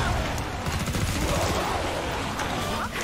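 Gunfire in the video game Killing Floor 2 sounds as loud continuous bursts of rapid shots over a dense rumbling mix, a constant barrage with no pauses.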